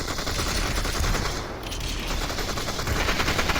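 Rapid, sustained AK rifle fire in Population: One forms a dense, loud stream of shots throughout, with a brief lull partway before the burst continues.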